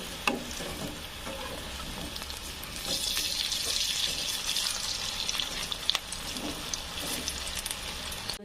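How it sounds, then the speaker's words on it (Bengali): Small lentil fritters fry in hot oil, a continuous close sizzle and crackle that grows busier partway through, with occasional spatula scrapes as they are turned and no voices. "এভাবেই উল্টে পাল্টে দুই পাশ লাল লাল করে ভেজে নেব।"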